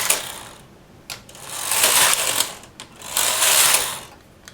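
A knitting machine carriage is pushed across the needle bed in repeated passes, each giving a loud, rattling mechanical clatter and slide, with short pauses between rows, close and alone.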